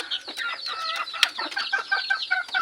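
Labuyo wild junglefowl rooster, a wary mestiza-type bird near its nest with eggs, giving a busy run of short clucks and chirpy calls with some rustling, fairly close and steady, with no talking.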